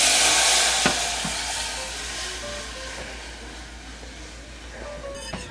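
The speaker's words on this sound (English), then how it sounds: "cook over medium-high heat, whisking frequently until it has thickened and reduced by half" A gluten-free sweet and sour sauce is whisked in a saucepan over medium-high heat, producing a steady, soft sizzle and scraping hiss with a few light clinks of the whisk against the pan.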